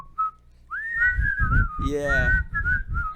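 A person whistles a bright, lilting melody imitating the intro tune of The Dick Van Dyke Show, close and clear over soft background murmur, with a brief word spoken at the start.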